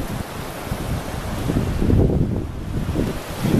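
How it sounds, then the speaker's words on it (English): Sea waves surge and wash over coastal rock pools at the Giant's Causeway in Northern Ireland, a continuous rumbling wash that swells louder midway, mixed with gusty wind noise on the microphone and no voices. "The pools, the water crashing,"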